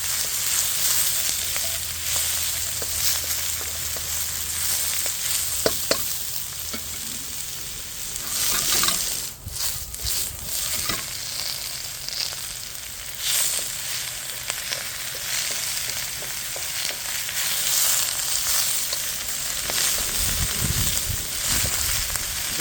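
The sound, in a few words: vegetables frying in pan for duck udon soup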